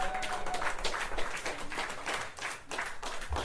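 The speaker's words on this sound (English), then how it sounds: "Big round of applause for my man" Comedy club audience clapping as comedian Dan Fraley is introduced, a moderate crowd applause with distinct hand claps that swells and dips over a few seconds.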